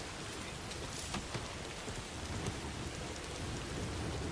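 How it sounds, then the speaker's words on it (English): Steady rain and rumbling thunder in a package-delivery video game, a dense continuous hiss of falling rain with low thunder rolls and a few sharper cracks, no talking. "Oh. Raining."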